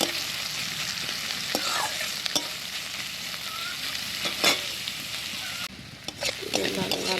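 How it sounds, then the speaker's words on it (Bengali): Onions and small bay leaves frying in a pan, heard as a dense, close sizzle with frequent stirring scrapes and a brief dip in the sound toward the end. "পেঁয়াজ, এগুলো লাল লাল করে একটু ভেজে নিতে হবে পেঁয়াজটাকে।"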